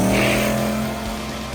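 A Chevrolet Nova drag race car makes a pass down a dragway, its loud engine roar fading gradually over a brief moment.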